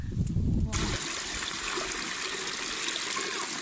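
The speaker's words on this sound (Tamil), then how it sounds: "வாய்க்காலில் வர தண்ணியிலே கழுவியாச்சு" Water flowing in a village irrigation channel, where guava fruit is washed, rushes steadily and close by after a brief low rumble at the start, with no voices heard.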